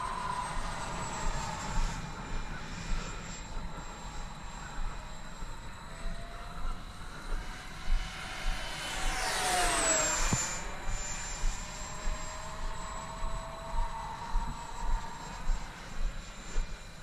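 An 80mm T-7A RC jet flies overhead with a steady turbine whine, swelling loud and Doppler-sweeping as it passes close around the middle before fading back to a distant drone.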